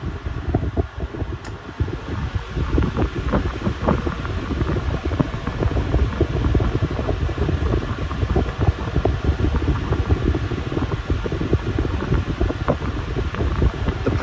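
Two Bionaire 2 Cool fans, one a pedestal model, running together on medium speed, producing a steady, loud, broadband whoosh of moving air close to the microphone.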